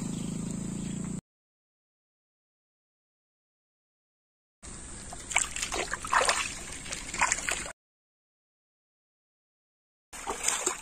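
Cold water splashing and sloshing as someone bathes in the morning, coming in short bursts of close, rough splashes separated by silent cuts.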